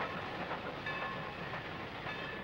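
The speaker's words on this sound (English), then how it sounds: "One last look at an SN freight heading west, nearly at the Walnut Creek station" A Sacramento Northern freight train rolls westward near Walnut Creek station, a steady distant rumble of wheels on rails with faint clatter and no pauses.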